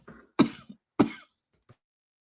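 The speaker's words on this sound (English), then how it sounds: "Oh, she's coughing." A woman coughs twice in quick, harsh bursts, close and loud, followed by a couple of faint throat sounds and silence.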